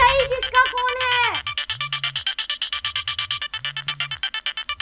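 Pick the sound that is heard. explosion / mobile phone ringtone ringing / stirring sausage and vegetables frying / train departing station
mobile phone ringtone ringing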